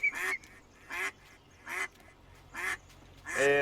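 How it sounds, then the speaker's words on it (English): Ducks in a video game give five loud, close quacking bursts at roughly even intervals, the last one longer and more drawn out, with a faint low hum between calls. "A lot of duck noises."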